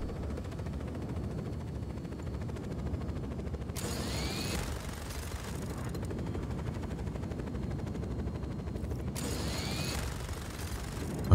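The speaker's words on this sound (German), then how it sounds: "Dafür ist nämlich so ein Helikopter ganz praktisch." Helicopter in the video game Just Cause 4, a steady mechanical rotor whir and grinding drone running continuously, with two brief bursts of higher swooshing noise partway through, no speech.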